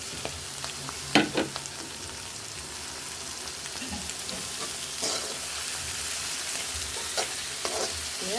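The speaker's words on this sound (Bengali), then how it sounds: "আর একটু নাড়াচাড়া দিয়ে নেব" Spice paste with coriander powder sizzles steadily in a pan for a dried fish curry, broken by several sharp stirring scrapes and clatters, close and continuous with no talking.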